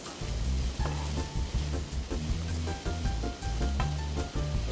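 Stir-fry noodles sizzling loudly in a hot pan with garlic and onions, a dense continuous crackle broken by rhythmic scraping knocks of stirring, close by.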